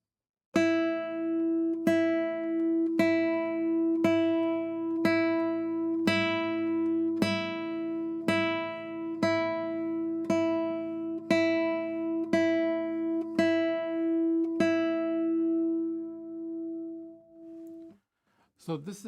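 Repeated single notes plucked on a classical guitar with a rosewood body ring out clearly and evenly, about a dozen in a steady rhythm, then sustain and fade before a brief rustle at the end.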